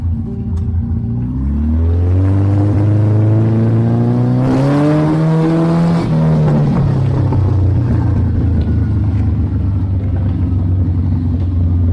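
A Porsche 718 RS60 racing engine idles, then revs up in rising pulls, hangs high and falls back to a rough, throaty idle, loud and close with no talking.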